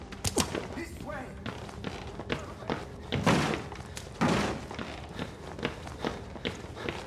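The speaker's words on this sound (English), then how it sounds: "Banging on the door, bro, doesn't care." Heavy banging on a door in the horror video game Outlast, a run of loud irregular thuds and slams with a couple of heavier impacts, mixed with footsteps and game noise, fairly close.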